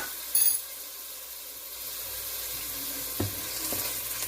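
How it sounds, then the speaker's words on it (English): Garlic and onions sautéing in a pan for chicken cacciatore, a steady close sizzle with a brief clatter near the start and a couple of soft knocks from stirring later on. "Garlic and onions are in. Okay."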